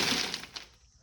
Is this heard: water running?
no